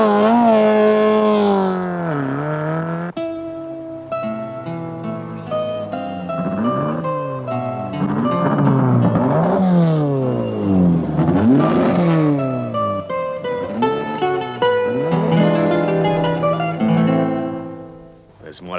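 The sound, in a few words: car driving off and revving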